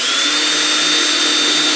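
A power drill drilling wood for an Adirondack chair whirs steadily and loudly at close range, one continuous high-pitched motor run with no pauses or voices.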